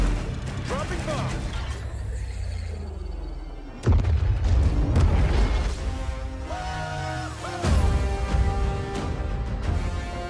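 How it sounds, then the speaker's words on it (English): Bomb explosions in the Call of Duty Vanguard trailer, with two heavy booming blasts that crash in several seconds apart over a dramatic score and rumbling battle noise. Voices speak between the blasts. "Dropping bomb."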